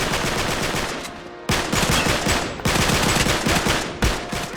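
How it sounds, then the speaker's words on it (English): Assault rifle fire in Uncharted 3 multiplayer: long, dense automatic bursts rattling loudly and close, broken by brief pauses, with no speech. "a full clip from an assault rifle isn't enough to get the job done"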